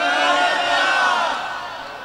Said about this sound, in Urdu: اب ہم تو نعرے لگا رہے ہیں